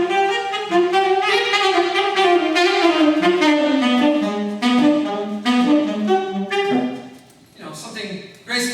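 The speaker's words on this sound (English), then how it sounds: "I'm supposed to play Scherzo in C, and it's supposed to sound like this." Graceful classical piece, Scherzo in C, played on a melodic instrument in a flowing, legato line with clear sustained notes, fairly loud and close, with a brief dip near the end.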